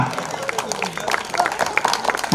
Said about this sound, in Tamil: உரைக்க கைத்தட்டுங்கய்யா